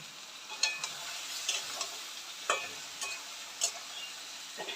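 Tiny fresh bele fish fry in hot oil, a soft crackling sizzle punctuated by intermittent spatula taps and scrapes, moderately quiet with no speech.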